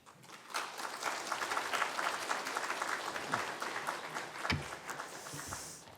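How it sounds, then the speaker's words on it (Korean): A church congregation applauding in welcome for a visiting missionary at a Wednesday prayer service, warm sustained clapping from many hands at moderate distance, swelling in quickly and then gradually thinning out. "나오실 때에 큰 환영의 박수를 해주시면 감사하겠습니다"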